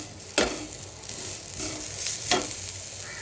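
Grated carrots frying in a pan for carrot halwa: a soft continuous sizzle with two sharp scraping stirs of a spatula, close and alone with no talk.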